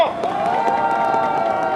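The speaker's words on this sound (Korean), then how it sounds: "박수 부탁드립니다" A campaign rally crowd in Daejeon's Daedeok district cheers and applauds for an introduced former lawmaker, a dense, continuous roar of voices with whoops and clapping filling the short stretch.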